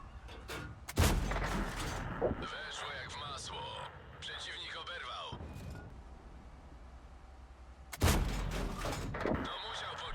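Tank cannon shots fired with gold ammunition in World of Tanks: two heavy, booming blasts a few seconds apart, close and loud, with someone talking in between and game noise beneath.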